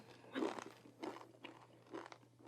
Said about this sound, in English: You hear the crunch? It sounds like she chewing on rocks.